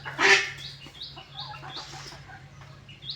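Chickens cluck while being fed rice at midday, opening with one loud squawk, then a string of softer, fairly close clucks and chirps over a low background hum.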